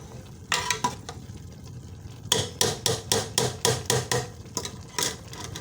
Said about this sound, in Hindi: चावल हमारे ये देखिए पक रहे हैं। अब हम इसका पानी जो है ये खुश्क कर लेंगे।